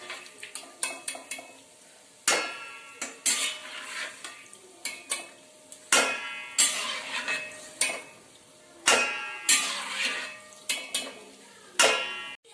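A spoon scooping freshly roasted peanuts out of a pan, with a run of uneven metallic scrapes and clinks, some sharp and close, separated by short pauses.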